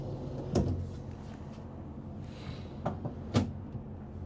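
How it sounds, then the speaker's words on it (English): Drawers and cabinetry in a 2026 Renegade XL 45 DBM motorhome, with a few sharp knocks and short sliding rattles set against quiet room tone, close by and without talk. "And then above that's going to be one opening drawer."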